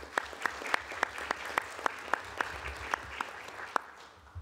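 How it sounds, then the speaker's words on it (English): Applause for a retiring federal employee at a government program review meeting: a small audience claps thinly, with a dozen or so distinct sharp claps standing out close by in a steady rhythm before it dies away. "Let's give her a round of applause for her remarkable record of dedicated public service"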